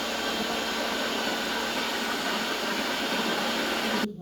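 An electric kitchen grinder churns batter in a home kitchen, a loud, steady whirring roar that holds evenly for about four seconds and then cuts off abruptly.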